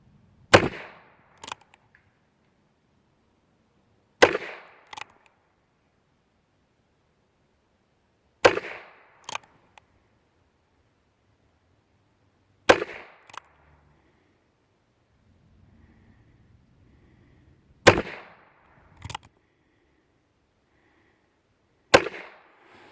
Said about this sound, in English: all 12 rounds that I have tried out of the box fired